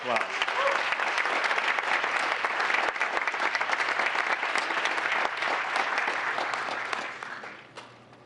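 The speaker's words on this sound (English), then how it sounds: "Let's give her a round of applause." Applause at a town council meeting honoring a women's pro BMX champion, steady dense clapping from the room for about seven seconds before tapering off at the end.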